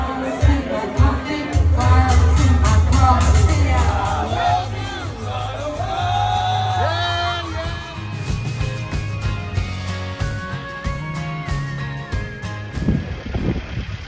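A lively crowd packs a pub during karaoke, with a dense mix of overlapping voices, shouts and whoops that swells loud at first and then thins into scattered chatter.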